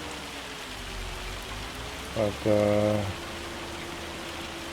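Steady rain hisses across a farm field in Farming Simulator's Riverbend Springs map, a constant wash of noise, with a brief spoken word and a short tonal hum cutting in partway through.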